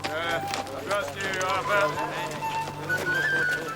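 Horse hooves clip-clop steadily nearby while a horse whinnies and snorts, with people talking over the animals.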